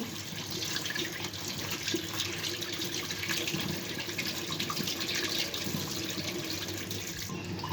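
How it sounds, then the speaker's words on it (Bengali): A mango rinsed under a running kitchen tap, water splashing steadily over the fruit and into the sink without pause, close and fairly loud, with no voices. "আমটা আমি ধুয়ে নিচ্ছি।"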